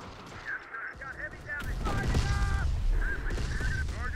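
Gunfire and a heavy explosive blast in the Terminator RTS strategy game; a deep rumbling boom rises after a second and a half and lingers, amid honking tones and game chatter.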